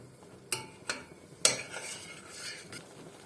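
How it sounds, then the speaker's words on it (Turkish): Flour toasted in a pot for a milk pudding, stirred constantly: a few sharp clinks of a utensil against the pot with soft scraping in between, close and fairly quiet. "yakmadan 4-5 dakika sürekli karıştırarak bu şekilde kavuruyoruz unumuzu"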